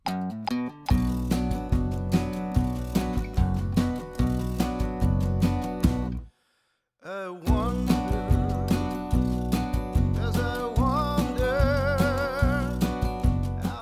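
Two acoustic guitar tracks layered together, one leaning on beats two and four, the other strumming steadily along, playing the carol I Wonder As I Wander in a full, even rhythm with a brief pause midway.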